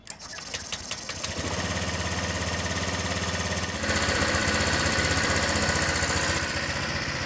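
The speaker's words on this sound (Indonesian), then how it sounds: "kita coba nyalakan mesinnya" A car engine cranks over with a brief series of starter pulses, catches and settles into a steady, loud idle that rises slightly partway through and stays constant, with no voices.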